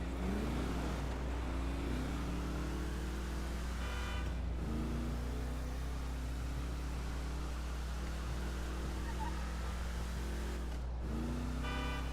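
Engine of a taxi-style civilian car in GTA 5 Online accelerating, a steady loud drone with rising gear-shift sweeps at roughly two, four and eleven seconds, heard alone with no talking.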